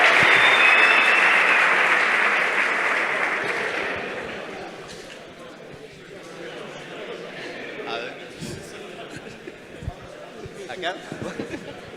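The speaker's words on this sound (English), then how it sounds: "A round of applause for Rack Attack, please." An audience at the HackUPC 2025 hackathon closing ceremony applauds the winners Rack Attack. Loud clapping fades out over the first few seconds, then scattered voices and light chatter follow.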